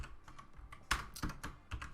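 Quick, soft keystrokes on a computer keyboard, close by, with a few louder clacks in an uneven rhythm and no voice.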